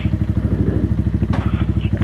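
A Mutt Fat Sabbath motorcycle on the road, its engine close and loud with a fast, even thumping pulse and a rushing noise layered on top.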